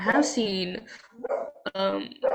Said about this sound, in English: Just excuse my dog